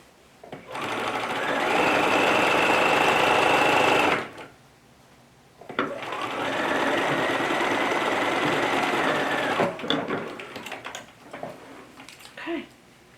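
A sewing machine stitching a small zippered fabric pouch runs in two long, steady whirring bursts with a pause between, followed by softer handling clicks and rustles.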